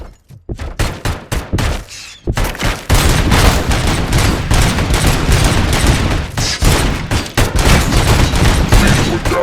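ED-209 fires sustained, loud bursts of heavy automatic gunfire in RoboCop Rogue City, rapid shots at first then a continuous roaring barrage with booming impacts.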